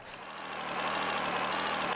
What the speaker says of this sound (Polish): Ale no, słychać, że to jest diesel.